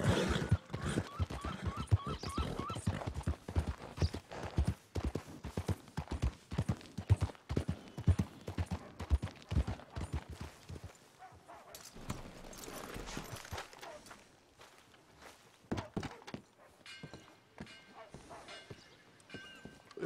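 Horse hooves clop in a quick, uneven rhythm on hard ground in Red Dead Redemption 2, loud and close at first, then thinning out and growing sparser toward the end.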